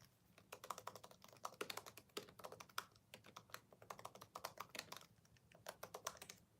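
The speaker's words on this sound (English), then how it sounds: "I guess I'll type it out for you." Rapid, uneven typing on a computer keyboard, close and crisp, with bursts of keystrokes and brief pauses throughout, no voices.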